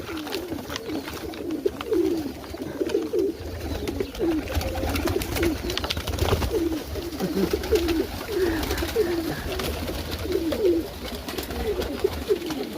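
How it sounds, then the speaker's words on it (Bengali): Hungry pigeons at feeding time coo in soft, repeated throaty calls from several birds at once, close by and continuing throughout over a low background hum. "এই হলো অবস্থা কবুতরের, খাওয়ার জন্য পাগল হয়ে গেছে।"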